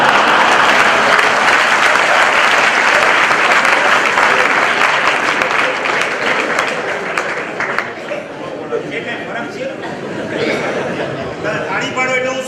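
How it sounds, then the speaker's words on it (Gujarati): Sustained applause from a seated audience at a Jain religious sermon, loud and dense at first, then thinning into scattered clapping with faint murmurs and light laughter toward the end. "તાળી પાડો એટલે હું સમજુ કે આ બધું હું બરાબર કરું."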